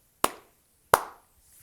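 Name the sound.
hand clap sample as metronome click on Roland SPD-SX PRO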